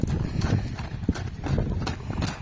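Hooves of a horse offered for sale, a three-year-old fresh from the herd, clip-clopping in a steady uneven rhythm close by, with faint outdoor background noise.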